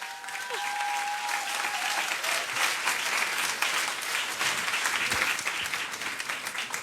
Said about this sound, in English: let's give them one more round of applause now that we've got them all up here